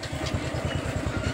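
A Honda PCX motorcycle engine runs steadily close by, its low rhythmic idle pulsing evenly with a light mechanical clatter on top and no voices.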